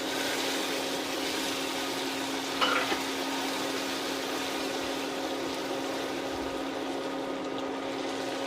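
Butter is dropped into hot caramel in a pan off the heat, giving a steady, even hiss of sizzling bubbles that carries on at a constant level with a brief clatter midway.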